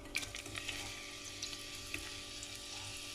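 Food sizzles steadily in a pan over a camp cooking fire, a continuous soft crackle and hiss with scattered small pops, close and constant, with no talking.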